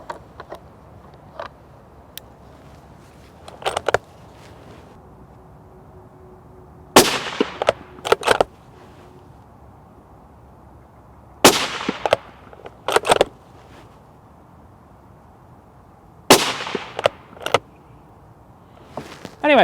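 A rifle fires 55 grain V-MAX ammunition outdoors in a light breeze, with sharp, loud single shots in small spaced clusters and a quiet outdoor background between them.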